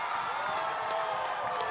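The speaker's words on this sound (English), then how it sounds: "And the crowd goes wild as the captain scores." Loud, sustained crowd cheering and whooping at a schools rugby match between Wesley College and Trinity College, filling the whole moment after a try with a steady roar.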